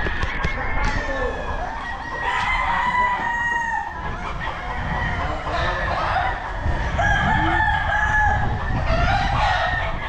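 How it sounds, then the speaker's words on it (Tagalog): Several roosters crow over a steady background of hens clucking, loud and continuous throughout, with layered calls overlapping near and farther off. "Ang dami ngayong mga manok dito guys."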